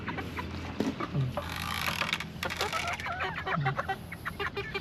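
Backyard chickens and ducks cluck at feeding time, with short scattered clucks and calls over a busy farmyard background, fairly close.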